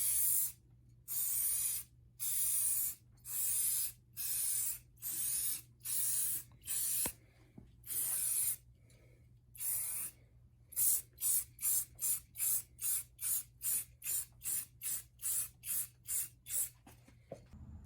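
Aerosol can spraying adhesion promoter onto Jeep Wrangler trim rings: a series of loud, close hissing bursts of about a second each, then faster, shorter repeated spurts toward the end, with no talking.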